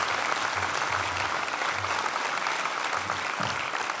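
Steady audience applause fills a youth assembly hall, a dense continuous clatter of many hands clapping at close range for several seconds without pause.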